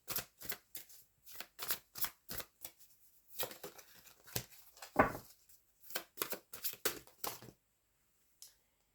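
Oracle cards are shuffled up close in a quick series of crisp riffling bursts, faint and irregular, trailing off into near silence with one last soft flick.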